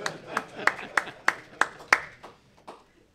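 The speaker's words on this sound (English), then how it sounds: "Let's clap for the region." An audience at an examination results ceremony claps in a slow, even rhythm, about eight sharp, distinct claps in unison that fade out over a few seconds.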